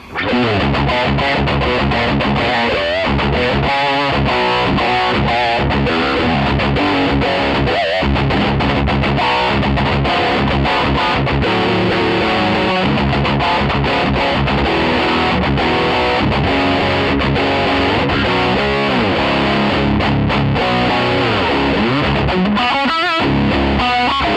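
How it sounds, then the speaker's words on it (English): Distorted electric guitar in drop D tuning, slightly out of tune, playing continuously with heavy effects, notes bending down in pitch in tremolo-bar dives, loud and steady throughout. "So I'll play a little bit with it now in the drop D mode and then dive only."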